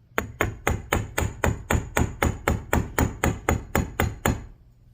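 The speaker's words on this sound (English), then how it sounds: "we're going to hammer it like a dagger" Metal bead frame wire for a pendant being hammered flat toward a dagger-like taper: about eighteen sharp, evenly spaced ringing blows, close and loud, with no talk.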